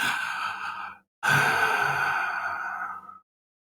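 During a tabletop role-playing session, a voice imitates weird breathing with two long, breathy, sigh-like exhales separated by a short pause.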